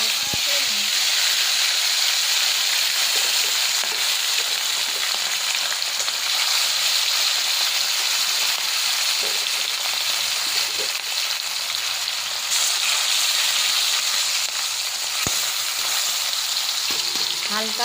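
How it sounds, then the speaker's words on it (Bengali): Hilsa fish fry in mustard oil in a wok with a continuous loud, close sizzle and hiss that holds steady for the whole stretch, with occasional faint clicks and no talking. "এবার মাছ ভেজে নেব"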